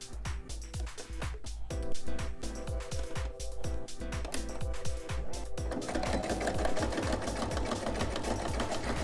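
A sewing machine backstitches the seams of an oven mitt, its needle thumping in a rapid, even rhythm close by, with short pauses and a brief shift in pace partway through.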